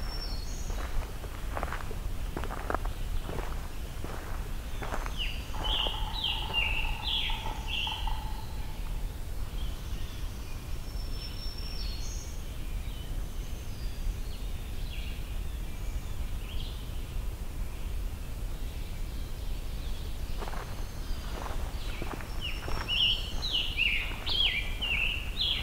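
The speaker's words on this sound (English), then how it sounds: "Quite a lot of birdsong here." Woodland birdsong, including a scarlet tanager, carries as high chirping phrases early on and again near the end, fairly faint over steady outdoor ambience, with rustling footsteps through the woods audible in between.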